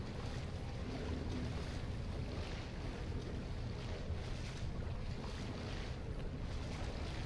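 Flood water in The Evil Within video game sloshes continuously as a character wades through it, a steady wash of watery noise with no talk.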